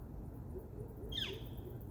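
An unfamiliar bird gives one short, descending whistled call, faint over a low steady background hum, alone with no talking.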